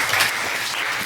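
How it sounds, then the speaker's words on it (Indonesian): A brief burst of steady clapping fills a classroom as students and teacher applaud together at the end of a biology lesson. It is close and loud, with no speech over it. "kita berikan aplaus untuk kita semua"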